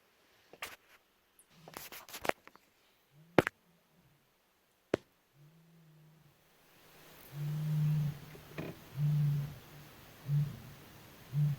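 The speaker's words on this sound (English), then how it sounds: "that was the male lion that we were talking about" A male lion roars at night in the Botswana bush, with a series of deep, moaning grunts rising after scattered knocks and clicks close by, the calls pulsing rhythmically and moderately loud over a hissing background.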